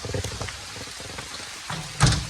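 Monsoon rain falls at Rangana Fort as a steady broadband hiss, with a louder gust of rain or a knock near the end.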